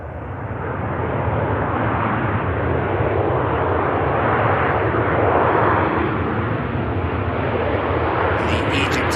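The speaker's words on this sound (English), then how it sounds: "Ryanair touching down from Oslo" Ryanair airliner touching down at Manchester Airport after a flight from Oslo, a loud sustained broadband engine roar and rumble that swells steadily and holds throughout, heard alone.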